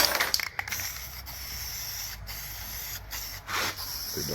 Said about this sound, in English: we'll give the bottom a bit of a hit with some blue paint while I got upside down